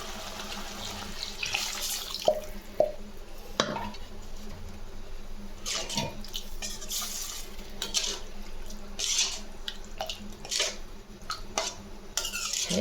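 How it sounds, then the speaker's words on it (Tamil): Water splashing and pouring into a mixer jar in a kitchen while making tomato kuzhambu, mixed with clinks of the container and utensils, in irregular bursts. "அதோட தண்ணி ஒரு 2 டம்ளர் சேர்த்துக்கிறோம்"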